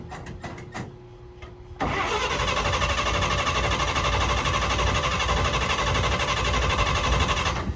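A 1948 Chevy truck engine cranks briefly, then catches and runs loud and steady at close range, with a rough, constant mechanical roar through to the end.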